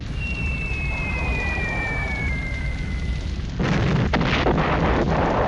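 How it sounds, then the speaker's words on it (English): Bombs dropping from B-17 Flying Fortresses onto an airfield in a war game: a steady roaring rumble with a falling whistle, then a louder burst of heavy explosions, dense and continuous. "The fortresses drop their bombs"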